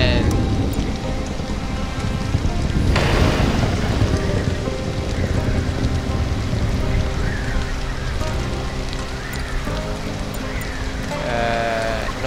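Thunderstorm rain in the survival game Stranded: Alien Dawn, a steady loud hiss of rainfall with a low rumble surge, mixed with game music tones and character voices.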